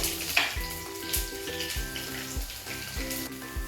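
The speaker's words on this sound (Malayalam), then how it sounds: "എണ്ണ നന്നായിട്ട് ചൂടാവുമ്പോൾ അതിലേക്ക് നമ്മൾ ഒരു സ്പൂൺ അളവിൽ ഉലുവ ചേർത്ത് കൊടുക്കണം അതിലേക്ക് വെളുത്തുള്ളി ചേർത്തു" Fenugreek seeds and garlic fry in hot oil for a Kerala-style mackerel curry, making a close, steady crackling sizzle with a few brief clinks and pops, mixed with background music and no speech.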